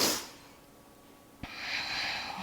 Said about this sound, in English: Sorry, I keep sniffling,